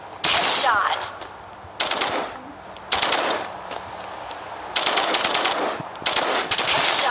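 A Vandal rifle in Valorant fires about five separate, loud automatic bursts, each lasting about a second, with short pauses between them.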